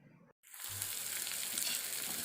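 Dried anchovies hit hot oil in a pan, bursting into a loud, steady sizzle after a short pause, crackling evenly and close up with no talking.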